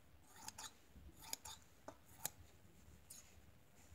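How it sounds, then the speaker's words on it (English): Sharp scissors snip through the excess fabric of an ironed, fused pocket flap, several crisp close cuts in quick irregular bursts against a very quiet background. "And I'm going to trim off the extra."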